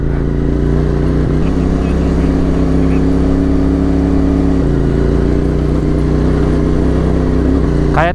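Motorized tricycle engine near a large bridge under construction in Calabarzon, Philippines, a loud, steady close-up engine drone that holds for the whole stretch with little variation.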